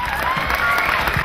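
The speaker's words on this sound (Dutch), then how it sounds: "Ik wil graag een heel groot applaus voor de commissaris van de Koning" A festival crowd applauds at the opening of Oerol Festival 2014, a steady dense wash of clapping and cheering, loud and continuous throughout the short moment.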